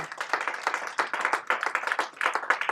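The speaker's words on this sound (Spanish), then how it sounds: "Dele un aplauso a Cristo." A church congregation applauding during a sermon, a fairly small group clapping in quick, uneven, crisp claps that carry on steadily throughout at a moderate level.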